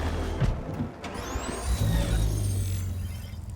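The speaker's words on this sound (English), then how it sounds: "I love the engine opening though. That's really fucking cool. It's like a robot dying" A synthetic Cyberpunk 2077 car engine whirs up with rising and falling electronic tones and a sweeping high whine, then settles into a low mechanical hum.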